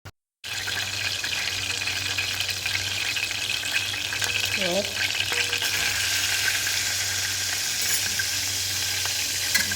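Very hot oil frying in a pan gives a steady, close crackling sizzle that starts after a brief silence and carries on evenly with no speech.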